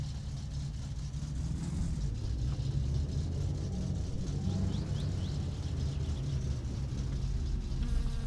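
A car in the game My Summer Car drives off with about half a tank of fuel and slightly off wheel alignment. A steady, loud engine rumble and whir continues without a break.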